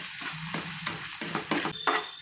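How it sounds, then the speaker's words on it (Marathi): Khoa for kunda chaha is stirred and roasted in a hot pan with the gas off, a close, rhythmic scraping and sizzling in short repeated strokes, with no talking. "गरम पॅनमध्येच हे छान असं आपण खवा परतून घेणार आहोत"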